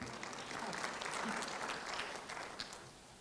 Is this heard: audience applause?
yes